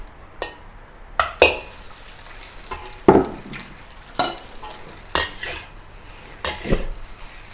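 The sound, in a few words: rice grains stir-fried in oil in a wok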